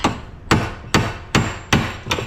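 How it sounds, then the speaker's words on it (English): A small chisel is struck repeatedly with a hammer to force open a split part, giving six sharp, evenly spaced metallic whacks, each with a short ringing decay. "Now I take my little chisel and jam it in there"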